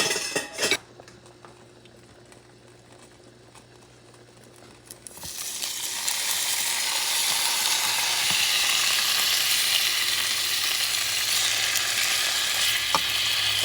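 Strips of beef for pepper steak drop into a hot pan and erupt into loud, steady sizzling frying that fills the rest of the clip after a few quiet utensil clinks.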